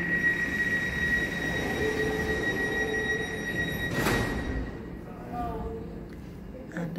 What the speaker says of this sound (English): And the train leaves.